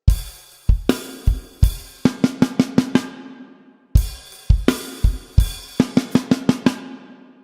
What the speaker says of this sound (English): Just a straight single stroke roll